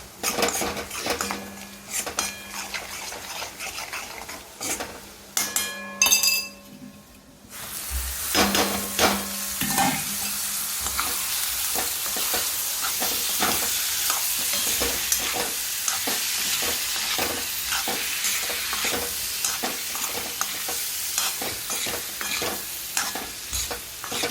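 A spice mixture of turmeric, asafoetida, garam masala, coriander-cumin powder and salt fries in a pan. A spoon clinks against the metal first, then a steady loud sizzle runs under rapid stirring scrapes, with no voices.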